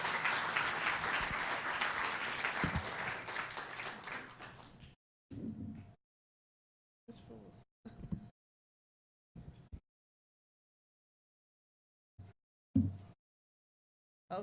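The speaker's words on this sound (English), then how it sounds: "Let's have a round of applause for both of our candidates." Audience applause for candidates at a community meet-and-greet event, several seconds of steady clapping that stops abruptly, followed by silence with a few brief sounds.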